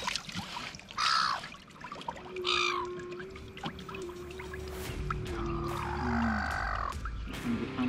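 A bird calls repeatedly while being fed a fish carcass at a shallow inlet, with several harsh, croaking cries in short bursts over a steady outdoor background.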